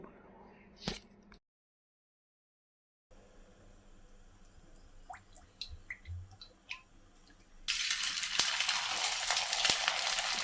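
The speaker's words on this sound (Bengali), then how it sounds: "এবার আমি রিফাইন অয়েল কড়াইয়ে দিয়ে দেবো আর ভেজে নেব" Quiet clicks and faint bumps, then a steady, loud hiss of refined oil sizzling in a kadai starts near the end, for frying semolina dumplings.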